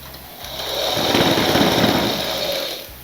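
A sewing machine runs steadily for about three seconds while stitching a princess-style petticoat (chemise), its whirring motor swelling louder through the middle before easing off, close by with no talking.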